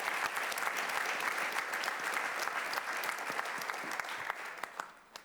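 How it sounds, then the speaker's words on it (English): An audience at an awards ceremony for a journalism prize breaks into warm, sustained applause, a dense wash of many hands clapping at even volume for about five seconds before thinning at the close. "give a warm applause"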